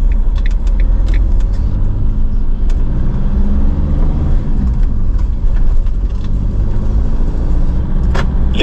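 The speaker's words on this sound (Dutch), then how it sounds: "Die autosnelweg en dan die auto's die zo naar beneden die berg afkomen" Cars on a motorway descending a mountain near Mazarrón, a steady close rumble of engines and tyres with vehicles passing continuously, loud and without talk.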